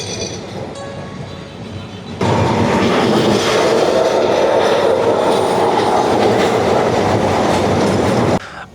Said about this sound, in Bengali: ট্রামের ঢং ঢং আওয়াজ ও ট্রামের চাকার শব্দে পুরো মুখরিত হয়ে উঠছে গোটা কলকাতা।